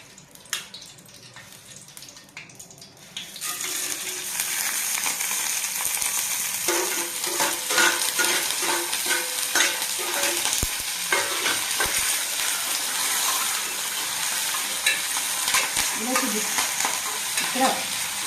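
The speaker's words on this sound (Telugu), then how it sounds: "పోపు దినుసులు వేద్దాం" Tempering spices hit hot oil (about three spoonfuls) for a green-chilli raw banana fry, starting quiet then bursting into a loud, steady sizzle with scraping stirs throughout, no voices over it.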